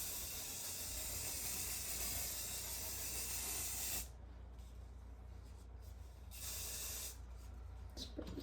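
Hair spray hissing onto hair, a long steady aerosol burst for about four seconds followed by two shorter, softer sprays, close up with no talk.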